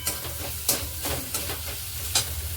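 A spoon stirs paneer bhurji masala seasoned with cumin powder in a pan, giving a steady low scraping with a faint sizzle and a few sharp spoon scrapes standing out.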